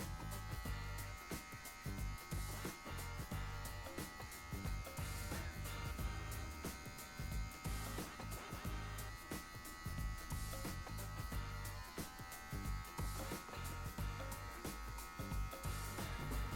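Electric hair clippers drone steadily through a buzz cut with a fade, their loud, dense buzz constant across the whole stretch, flickering briefly as they move through hair, with no talking.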